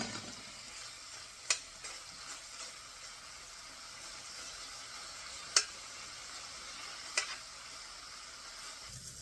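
Bacon browning in a cooking pot, a soft, steady sizzle throughout with three sharp clinks spread out over it.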